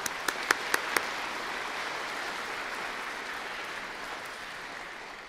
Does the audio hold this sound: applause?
yes